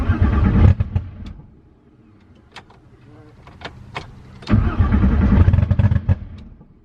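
A VR6 engine cranking during a fuel injector test without starting: bursts of rapid starter churning at the beginning and again after a pause, with quiet clicks and handling noises between.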